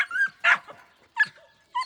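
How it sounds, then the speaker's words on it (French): Puppies yap and whimper in short, lively bursts while playing in the grass, four quick clusters of high yips close by with brief pauses between them. "Les chiots partent rapidement en désordre, en jouant dans l'herbe et en jappant de rire."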